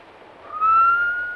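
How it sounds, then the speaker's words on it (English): A single person whistles one rising then sustained clear note, clean and fairly loud against near silence. "do you know how to whistle?"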